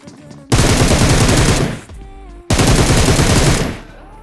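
Two long, loud bursts of automatic gunfire in the mobile battle royale BGMI (PUBG Mobile) rattle close by, each lasting over a second, separated by a brief lull.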